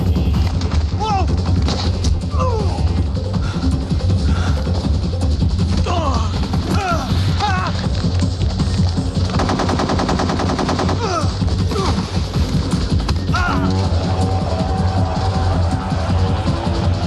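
Metal Gear video game gunfire, loud bursts of machine-gun fire and single shots mixed with crashes and impacts, dense and continuous, with voices shouting over the action.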